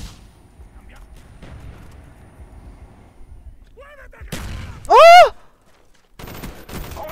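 Rapid gunfire bursts from Call of Duty Black Ops crackle through the mix, with sharp rattling volleys and a loud whooshing effect midway, while players talk over the game.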